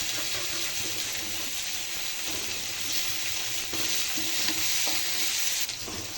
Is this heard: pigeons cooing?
no